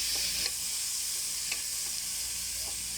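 Tomatoes sautéing in a pan for a chicken and bitter melon soup, with a steady sizzle and a utensil stirring and scraping in faint, irregular strokes throughout.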